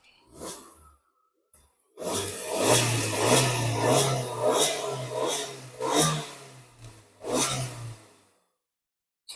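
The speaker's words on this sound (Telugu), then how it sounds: "ఇంజిన్ స్టార్ట్ చేశాను" A 2021 Maruti Suzuki Ertiga ZXI engine turns over and catches, then runs with a low steady hum, revving up and down a few times before cutting off near the end.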